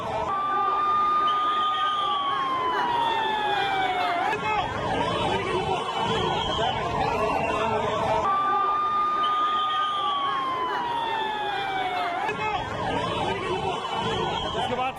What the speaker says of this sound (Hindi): उसके बाद फौरन मौके पर एम्बुलेंस पहुंची है।